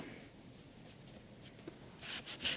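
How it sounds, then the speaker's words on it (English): A paper towel rubs softly across a pastel drawing to blend the color, making a faint, dry scrubbing sound with a few slightly louder strokes near the end. "What I'm going to do is take my paper towel and soften that a little bit."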